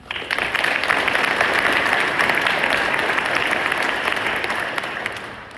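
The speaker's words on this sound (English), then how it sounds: "Please join me in a round of applause." A sustained round of audience applause at a military change of command ceremony for a Soldier Recovery Unit headquarters company, dense and steady for several seconds before tapering.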